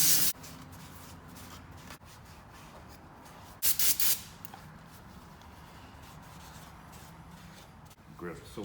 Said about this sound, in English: A little brake cleaner on a rag.